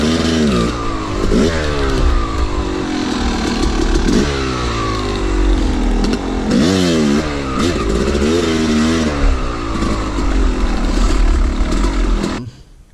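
A dirt bike engine revs hard on a steep hill climb, loud and close, its pitch rising and falling in repeated throttle bursts before cutting off abruptly at the end.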